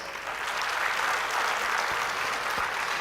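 Sustained audience applause fills an awards ceremony hall, a dense, steady roar of many hands clapping at close range for the full stretch without pause.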